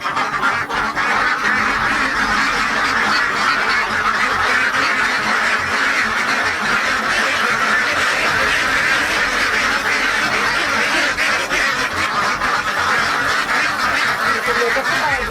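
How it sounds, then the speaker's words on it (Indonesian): A large flock of ducks on a duck farm quacks continuously and loudly at close range, a dense overlapping chorus throughout with no clear talk over it. "Bebeknya nih, saya cek dulu."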